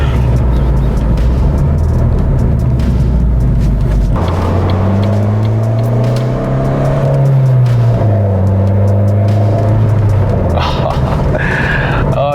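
A Ford Focus fitted with a short throw shifter drives along, its engine droning loud and steady with rising and falling pitch through gear changes, road and cabin noise underneath throughout.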